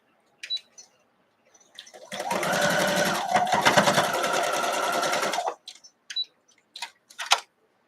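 A sewing machine quilting a quilt block runs in one steady, close burst of about three and a half seconds, whirring with rapid ticking stitches, framed by a few soft clicks and handling noises before and after.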